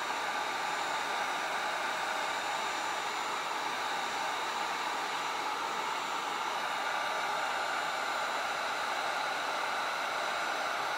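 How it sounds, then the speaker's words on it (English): A heat gun used for wood burning on a wooden cutting board blows a steady, loud hiss of air that holds unchanged from start to finish, with no talk over it. "Keep your hair away from the heat gun."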